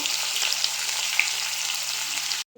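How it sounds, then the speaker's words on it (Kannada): Chopped onions frying in hot oil in a pan while making paneer butter masala, a steady close hiss and sizzle that cuts off abruptly near the end. "ಬ್ರೌನ್ ಕಲರ್ ಬರೋವರೆಗೂ ಹುರಿದ್ಬಿಟ್ಟು"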